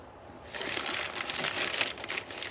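Fluid from a Dodge Charger spattering onto the ground in a steady, hissing patter that swells after a moment and keeps going, close by, with no talking.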